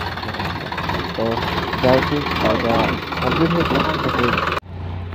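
Tractor engine running steadily in a rural work setting, a continuous mid-pitched rumble with some knocking texture, close and fairly loud beneath a man's speech, cutting off abruptly near the end.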